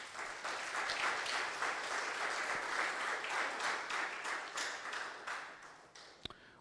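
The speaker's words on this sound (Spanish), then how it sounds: "Denle un fuerte aplauso al Señor." A church congregation applauds during a service, a steady wash of many hands clapping at moderate distance that fades out near the end, followed by a sharp single knock.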